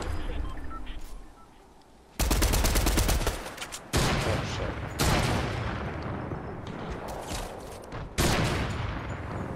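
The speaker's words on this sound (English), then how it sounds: "I keep shooting myself." Video game gunfire comes in loud, dense bursts of rapid automatic shots, broken by brief pauses.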